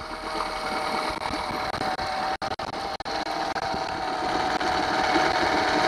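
Honda 8 hp outboard motor running up as the throttle is pushed forward, a close, busy mechanical whir with brief dropouts before the sound settles and builds slightly louder.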